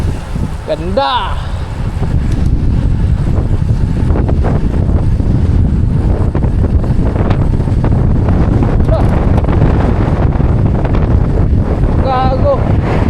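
Strong wind roars and buffets the microphone continuously during a solo motorcycle ride toward Mount Aso, a loud, rough, broadband rush with brief voice fragments barely rising above it.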